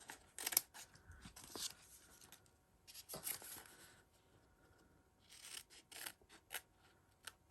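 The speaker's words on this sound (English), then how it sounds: "I'm just going to cut this away" Scissors snipping through craft material, several crisp short cuts in quick bursts with pauses between, close but quiet.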